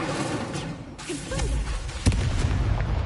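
A fire spell cast as Incendio in Hogwarts Legacy bursts with a sharp, loud whoosh and crackle, set against busy game effects and other spell sounds.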